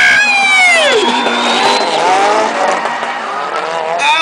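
Drift cars sliding at NOPI Nationals at Atlanta Motor Speedway, loud revving engines with pitch sweeps and sustained tire squeal as the cars slide past, close and continuous.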